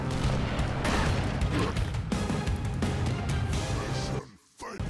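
Rapid, continuous gunfire and explosions from the run-and-gun game Broforce, a loud, busy barrage that runs almost without pause, with people talking over it, before a brief dropout near the end.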